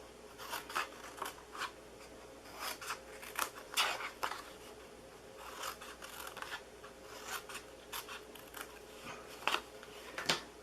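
Scissors snip through paper as pieces for a dog house treat box are cut out, giving a series of quiet, crisp cuts spaced irregularly over a faint room background, with no talking.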